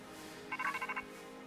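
A phone rings in Pokémon Scarlet, a short electronic ringtone of about five quick pulsing bursts over a steady, quiet game-music background, with no voices.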